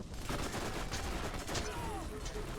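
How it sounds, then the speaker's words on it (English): Dense gunfire from the Borderlands 1 Remaster video game, a rapid rattle of overlapping shots filling the short stretch, loud and continuous. "where am I being shot at"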